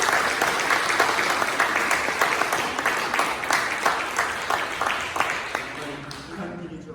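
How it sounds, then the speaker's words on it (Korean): A church congregation applauding together during a Sunday worship service, a dense, steady wash of many hands clapping that fills the room and fades slightly toward the end. "우리 함께 박수로 우리 하나님께 영광 돌리겠습니다"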